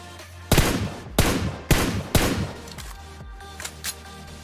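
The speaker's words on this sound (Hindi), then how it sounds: "इसको बेचारे को तो इतनी लॉन्ग रेंज रेड डॉट के टैप फायर में ही मैंने नॉकडाउन कर दिया।" Burst of rapid tap-fire gunshots from a red-dot-sighted weapon at long range in PUBG: four sharp, loud reports spaced about half a second apart, then a few fainter distant shots trailing off.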